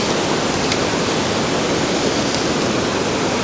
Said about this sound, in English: Seem to be right here in this eddy on this creek.